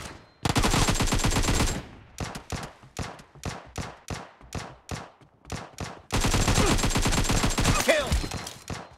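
PUBG Mobile gunfire crackles in loud bursts: a long automatic volley, then a run of single spaced shots, then another sustained burst of rapid fire.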